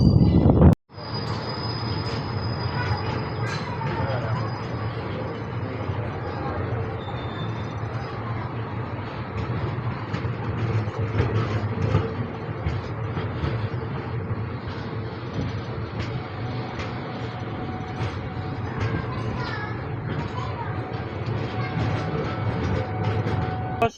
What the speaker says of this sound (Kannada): ಕಲಬುರ್ಗಿ SMBT ಬೆಂಗಳೂರು ಎಕ್ಸ್ಪ್ರೆಸ್ ಬಂದಿದೆ ಈಗ ವಾಡಿ ಜಂಕ್ಷನ್ಗೆ